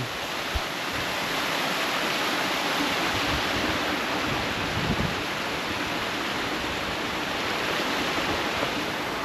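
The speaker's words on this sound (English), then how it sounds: "With the little waterfall." Small waterfall beside a little bridge on Helvellyn, a constant close rushing roar of falling water with no voices.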